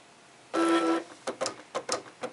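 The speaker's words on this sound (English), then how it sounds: "I'm going to press cut on my Cricut Design Studio" A Cricut Design Studio cutting machine starts up on a loaded mat to draw detail lines on paper, first with a short steady motor whir, then a series of quick mechanical movements.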